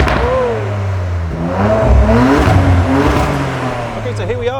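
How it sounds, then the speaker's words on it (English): A tuned 530 hp ABT Audi RS4 Plus engine pulls steadily while driving, a loud, rising and falling mid-range drone heard from inside the car, with some voices over it. "ABT have done an amazing job, but now Tim and Shmee are off to drive it"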